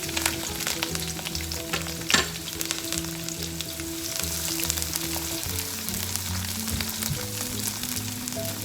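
Garlic and slit green chillies sizzle in hot oil in a pan, a steady crackling fry with occasional stirring scrapes and one sharp clack, close and clear with no talking.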